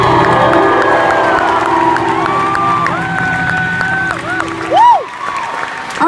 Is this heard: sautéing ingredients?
no